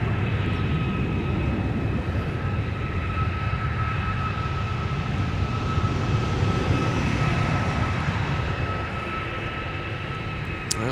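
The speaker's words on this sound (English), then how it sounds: "Sun Country touching down" A Sun Country Airlines jet, arriving from Miami, lands at Minneapolis–Saint Paul airport, a continuous steady engine roar with a high steady whine, loud and even throughout, with no talk.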